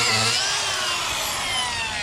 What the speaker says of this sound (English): I grind away.